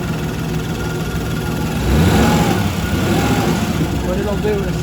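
A boat engine idles and is revved on a flush setup drawing water from a bucket, the pitch lifting partway through into a louder, rougher hum before settling to a steady drone.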